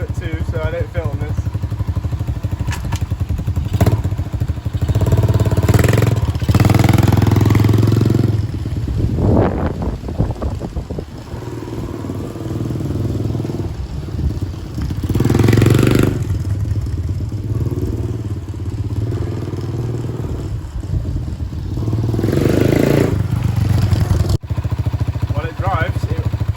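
A Dirt Master 110cc pit bike engine runs loud and close, a steady rough idle with occasional revs and rattling clatter, while someone talks over it at times.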